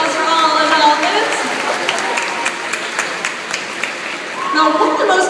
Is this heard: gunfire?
no